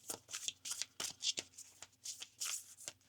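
A deck of playing cards is shuffled by hand in a quiet room, giving a run of quick, crisp riffling bursts at close range, soft in level and with no talking.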